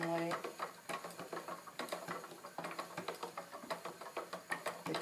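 A prototype wooden travel spinning wheel is treadled unevenly, making a rhythmic series of clunks and knocks roughly twice a second, close and clear, with a person talking over it.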